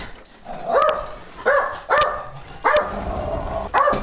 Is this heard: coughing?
no